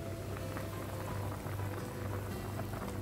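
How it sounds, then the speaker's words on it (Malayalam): Mutton boils in a pot for a Kerala-style roast, a quiet, steady bubbling and simmer that holds at an even level throughout the short clip. "മട്ടൻ നന്നായി തിളച്ചിട്ടുണ്ട്"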